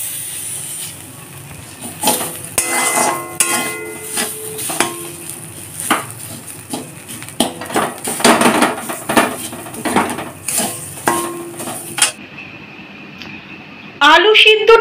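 Boiled potato is mashed together with neem leaves in a bowl. Irregular clinks, knocks and soft squelches come at close range over about twelve seconds, with a voice talking at times.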